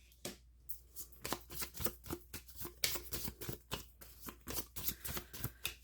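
Playing cards being shuffled on a tabletop, a fast run of crisp riffles and slaps, close and fairly quiet, coming in irregular bursts with no talking.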